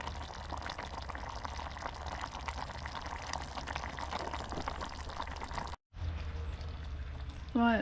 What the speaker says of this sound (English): So that's bubbling away nicely.